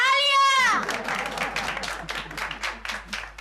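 Guests at a women's-group welcome gathering in a Hindi TV sitcom applaud as a woman is greeted with a bouquet. A brief tonal voice-like sound comes first, then a burst of lively group clapping that tapers into scattered claps.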